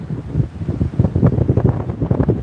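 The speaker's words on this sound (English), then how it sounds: "Yeah, it's windy." Wind buffets a microphone on a beach during surf fishing at Fort Clinch, a steady low rumbling roar with gusty surges and no speech.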